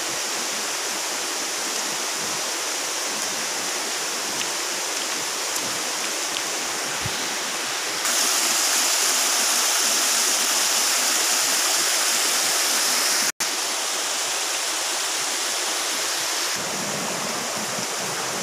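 The Buan River, banked by flat slab rock, flows over rocks in a continuous, loud, close rushing roar that brightens partway through and holds steady to the end, with a single sharp click.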